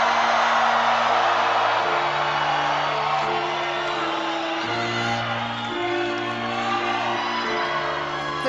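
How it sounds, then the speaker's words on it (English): A loud, dense live concert crowd roars and cheers continuously throughout, with whoops rising over a steady wall of noise and low musical tones beneath. "The crowd is absolutely wild."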